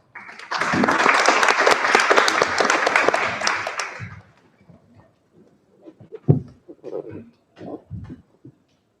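Audience at a law congress on children's rights applauding a speaker, a burst of dense clapping for about four seconds that stops abruptly, followed by a few scattered knocks and shuffling sounds.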